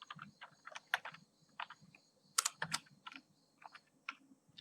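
Quick bursts of keystrokes on a computer keyboard entering C code during a programming lesson, crisp close clicks in short uneven runs with small pauses, no speech.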